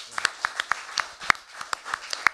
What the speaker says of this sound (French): je pense qu'on pourrait lui donner une bonne main d'applaudissement